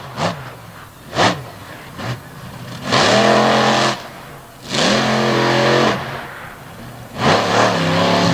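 A Silverado-bodied monster truck's engine revs during a freestyle run at a 2021 Bangor, Maine show, with a few short blips followed by longer, roaring throttle bursts that rise and fall in pitch.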